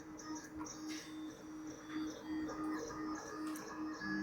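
A ceramic clay paste extruding in an Eazao Potter ceramic 3D printer, its motors whining and humming steadily with small clicks and shifts as the print collapses, at moderate level with no talk.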